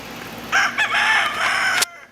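A rooster crows loudly and close by among a flock of chickens, one sustained crow lasting over a second, then cutting off abruptly into silence.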